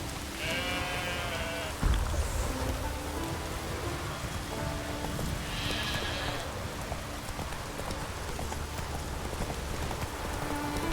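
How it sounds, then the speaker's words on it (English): Game animal sounds with bleats and horse-like whinnies over a steady ambient background and clopping hooves, fairly loud and continuous. "The sheep is coming."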